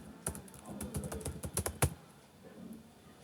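Fingers tap out an email address on a computer keyboard in a quick, uneven run of crisp clicks that stops after about two seconds, leaving faint room tone.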